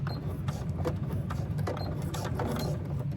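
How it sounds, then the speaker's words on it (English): A sewing machine runs a quick back stitch with white thread, a steady close mechanical whir with fine rapid clicking throughout and no talking. "Do a quick back stitch here."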